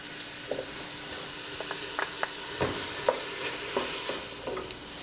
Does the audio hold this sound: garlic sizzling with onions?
yes